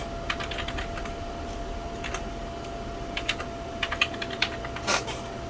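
Close, quiet typing on a computer keyboard gives irregular clicks and short bursts of keystrokes over a low steady hum, with one louder cluster near the end while entering a setup command.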